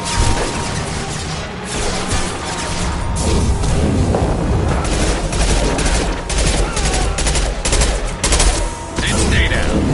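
Sustained gunfire in the sci-fi shooter Mass Effect 2, dense rapid bursts and heavy impacts filling the scene continuously, loud and close, with brief voice lines and combat effects mixed in.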